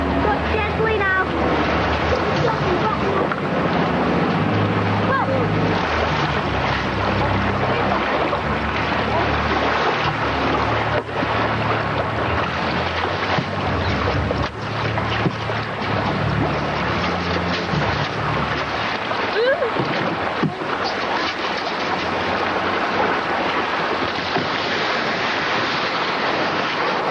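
A boat is paddled on the open sea toward shore. Constant surf and wind wash over the scene, with paddles dipping now and then, and voices are heard faintly amid the water noise.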